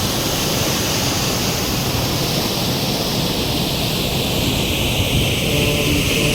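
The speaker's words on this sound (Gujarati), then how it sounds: "જોઈ શકો છો મિત્રો પાણીનો અવાજ આવે છે" Water gushes through the opened gates of Dantiwada dam, a loud, unbroken roar of falling water that stays steady and close throughout, with no voices.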